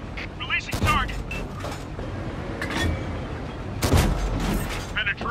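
Shots from a T69 autoloader tank gun in World of Tanks, heard as a few sharp booming blasts with mechanical clatter and radio-style voice callouts in between.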